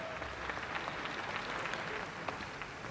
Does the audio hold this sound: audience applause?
yes